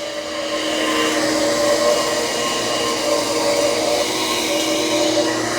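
Shark Freestyle Max SV2002 cordless stick vacuum running on carpet, a loud, steady high-pitched motor whine and airflow roar held at even level throughout, close up.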